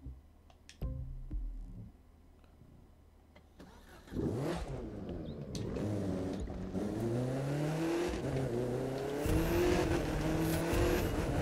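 A race car engine in The Crew 2 starts, then revs and accelerates with rising, stepping gear-change tones, loud and close, with brief tire squeal.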